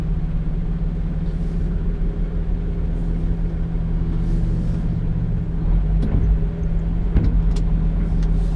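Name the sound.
LGV heavy goods vehicle driving down a tight side road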